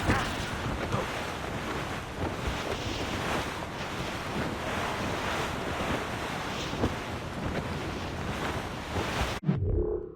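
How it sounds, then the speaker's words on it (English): Wind blows hard at sea in Assassin's Creed Rogue, a steady, loud rushing roar with surf-like wash that holds unbroken for several seconds before cutting off abruptly. "Wind's getting vicious."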